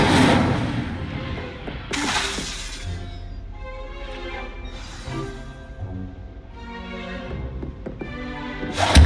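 A fire spell cast in the video game Hogwarts Legacy, with a sharp burst at the start followed by crackling, whooshing magical effects and musical tones. A second burst comes near the two-second mark and a last one at the very end.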